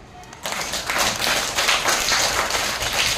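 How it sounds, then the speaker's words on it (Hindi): A children's class breaks into steady, bright applause in a classroom, the clapping rising quickly after a quiet start and continuing densely and close throughout. "इसलिए जोरदार तालियां"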